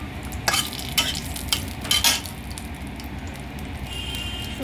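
Bay leaf sizzles in hot oil with cumin seeds already tempering for khichdi. A steady frying hiss runs throughout, broken by several sharp scraping stirs near the start, with no voices.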